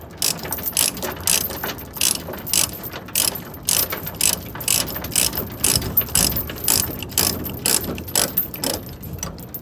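Ratchet strap being cranked tight to secure spools of cable, a steady run of loud, sharp repeated pawl clicks at a brisk even rhythm, close by and alone.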